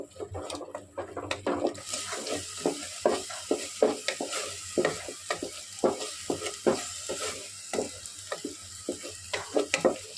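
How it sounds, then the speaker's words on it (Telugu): Coconut masala paste for a banana masala curry is stirred and fried in a pan, a steady soft sizzle broken by repeated scraping strokes of the spoon, close and alone with no voices. "అడుగు అంటకూడదండి, తిప్పుతూనే ఉండాలి."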